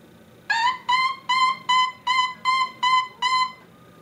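Oboe reed playing one steady note in eight short, evenly separated tongued pulses, each clearly detached from the next, close and clear with no talking.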